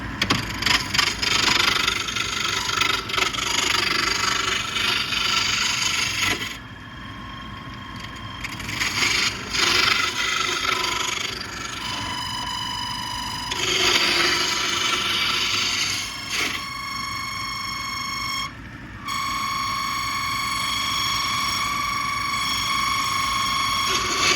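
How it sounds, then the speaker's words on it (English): A roughing gouge cuts a black walnut blank spinning on a wood lathe. The scraping whir is loud and continuous over a tonal motor hum, with bursts of chattering cuts and brief pauses. "All right, so I'm going to use my roughing gouge."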